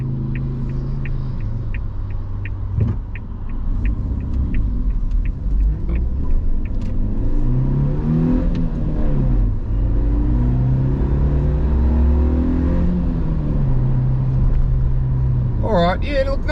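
A 2021 Suzuki Jimny with a 1.5 litre engine accelerates, its engine rumbling and rising in pitch through several gear changes, heard from inside the cabin with someone talking over it.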